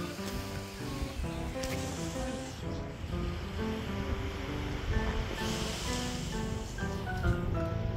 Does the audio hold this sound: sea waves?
yes